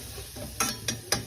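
Dhal tempering with chillies frying over a low flame in a pan, heard as three quick scraping stirs over a soft, steady background sizzle, close and fairly quiet.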